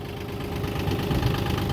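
The engine of a Komatsu PC30-6 mini excavator runs in a steady, close, low rumble with a knocking diesel idle throughout.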